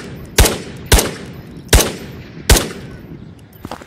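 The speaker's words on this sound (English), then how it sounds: "the sound of that gunshot sounded a lot beefier" Four loud, punchy gunshots from a video game ring out at a steady pace, each with a sharp crack and a short booming tail, followed by faint scattered pops.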